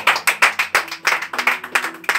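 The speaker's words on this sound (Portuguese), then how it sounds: "Aplauda Jesus." A church congregation claps in steady rhythm, about four sharp claps per second, close and clear, with a faint sustained tone underneath.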